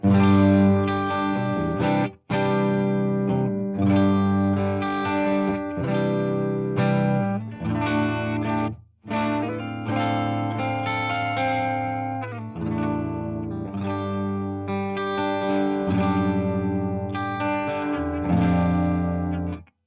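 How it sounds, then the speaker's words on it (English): Electric guitar played through a Marshall DSL100H amp on its clean channel with no effects, no reverb or delay: dry, ringing chords and notes in rhythmic phrases with brief pauses, close and alone. "This is the clean sound without any effects, no reverb, no delay, just the dry sound"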